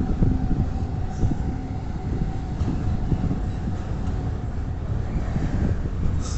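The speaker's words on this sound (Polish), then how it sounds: "Pociągiem towarowym." Freight train rolling past on rails in Poland, a continuous low rumbling and clattering roar with some wind buffeting the microphone, steady and fairly close throughout.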